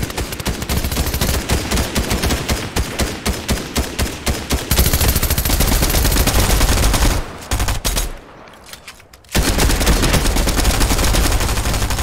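Loud, close automatic gunfire in the video game Fortnite, fast repeated shots in long bursts, with a short pause near the end before the firing resumes.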